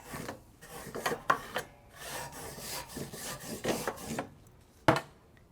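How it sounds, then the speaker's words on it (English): A wire brush scrubs charcoal grill grates in rough, rasping back-and-forth strokes, irregular in rhythm and close by, with a sharper scrape standing out near the end; nobody speaks. "A wire brush is really great for this"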